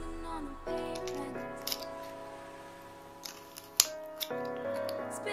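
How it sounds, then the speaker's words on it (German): Small scissors snipping tape close to a magnet while a toy is taken apart: a few quiet, sharp snips and clicks spread out under background music, with no talking. "Dann kurz vier solche Schnitte an allen Kanten, so nah wie möglich am Magneten dran."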